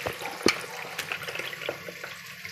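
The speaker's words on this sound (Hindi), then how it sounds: "देखिए, यखनी वाले पानी को हम छान लेंगे।" Beef meat stock (yakhni) is poured through a strainer for biryani rice, giving close, continuous liquid splashing and trickling with a few sharper clinks of utensils.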